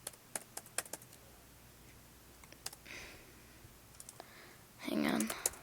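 Close clicking keystrokes on a computer keyboard, quick light taps at the start and a few scattered presses after, with a brief stretch of speech near the end.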